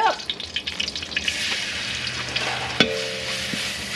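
Pork sizzles steadily in hot oil in a wok for Thai farm-style pad kaprow, a continuous crackling hiss with light stirring and a sharp utensil clink partway through.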